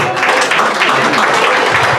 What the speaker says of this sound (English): You're not supposed to be applauding